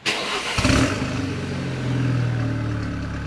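A Renault Megane RS250 with a decat Scorpion exhaust starts up with a sharp crank and catch, then settles into a steady, low, throaty idle burble close by.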